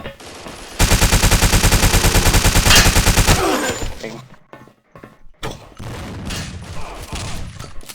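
Rapid automatic fire from an AK rifle in the video game Blockade 3D, a loud, evenly paced burst lasting a few seconds, then a pause and scattered distant shots and impacts.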